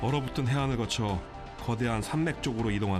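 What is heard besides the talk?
None of the usual background noises is heard.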